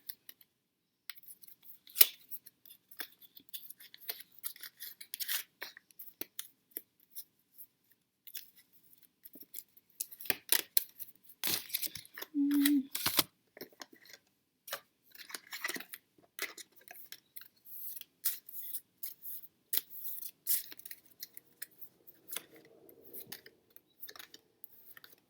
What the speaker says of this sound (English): I will go ahead and draw the crystal card and all 7 of the daily cards